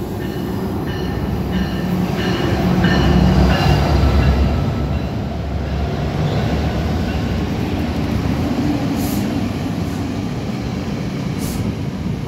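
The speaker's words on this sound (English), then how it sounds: "this is the outbound Bergen County Line train to Waldwick" Steady rumble of an outbound Bergen County Line commuter train to Waldwick in motion, a continuous low roar with faint rhythmic clatter, heard from inside or close by.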